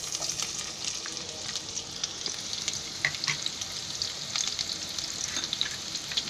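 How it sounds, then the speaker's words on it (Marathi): Onion fries in hot oil in a pan, giving a continuous bright, hissing sizzle with scattered small pops throughout. It is close and steady, with no one speaking. "थोडासा फ्राय करायला ठेवला आहे"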